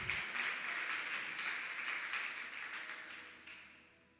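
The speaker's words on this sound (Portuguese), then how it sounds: "Pode aplaudir ao Senhor." Congregation applauding during a church sermon, a steady broadband patter of many hands that holds for several seconds and slowly fades toward the end.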